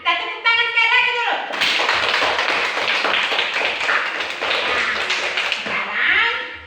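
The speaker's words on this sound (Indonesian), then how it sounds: "Kita tepuk tangan sekali lagi dulu." Classroom of students clapping their hands together in a burst of brisk, loud applause lasting several seconds, framed by a teacher's voice talking just before and after.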